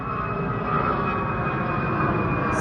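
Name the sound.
airplane flying overhead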